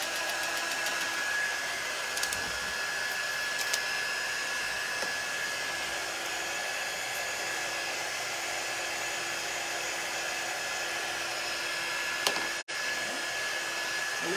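A heat tool blows continuously at close range while drying paint on a handmade greeting card, a steady whirring drone with a short click near the end.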